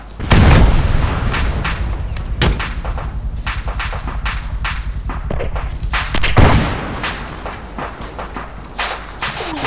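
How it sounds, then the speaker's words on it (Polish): Heavy explosions and gunfire in the Arma 3 military game, close deep booms followed by a rapid string of sharp reports and crackling bursts, loud and alone. "Wszystko wybuchło."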